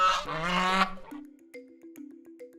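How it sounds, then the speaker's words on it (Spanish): Geese honking in a loud, harsh cluster of calls lasting under a second, followed by a lower, drawn-out honking tone with small pitch steps, as if heavily slowed down, fading over the next two seconds. "Como sucedió con el sonido de estos gansos,"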